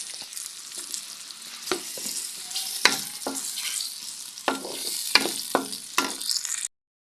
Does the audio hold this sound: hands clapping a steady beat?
no